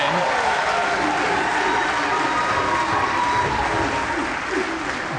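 A packed arena crowd at the Weber Cup 2017 tenpin bowling match roars with sustained applause and cheering, loud and continuous throughout, with some voices faintly audible in the din.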